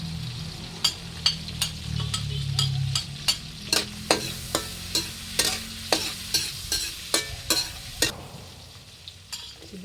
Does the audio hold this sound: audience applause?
no